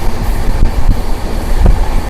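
The Seven Hills SF Express, hauled by a WP4 locomotive at around 130 km/h between Tirupati and Secunderabad, rumbles loudly from on board with a steady low roar and periodic thumps of wheels over rail joints.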